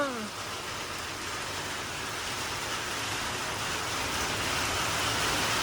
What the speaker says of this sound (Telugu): వర్షం రా అయ్యా మరి ఇంత ఘోరంగా పడుతుందండి వర్షము